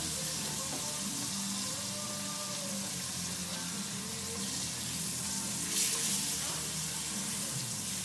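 Floured veal scallopini frying in butter in a pan, a steady broadband sizzle running throughout with a brief louder flare near the end, no talking.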